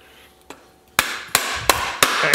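Bolt being tapped down through a bottom plate with a hammer, one faint knock followed by five sharp, close metallic blows at roughly even intervals, each ringing briefly.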